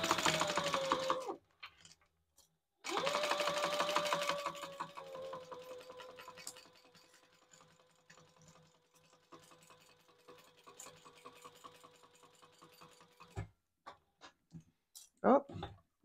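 Home sewing machine stitching a seam allowance on a retro-style sling, two short loud whirring runs and then a long quieter hum before stopping, followed by scattered clicks and handling.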